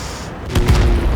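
A heavy tank cannon blast from an SU-152 in World of Tanks, one loud booming shot with a rumbling tail, heard at close range.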